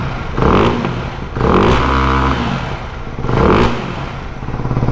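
Ducati Hypermotard 698 single-cylinder motorcycle revved repeatedly up close, three loud throttle blips rising and falling over a lumpy, thumping exhaust beat at idle between them.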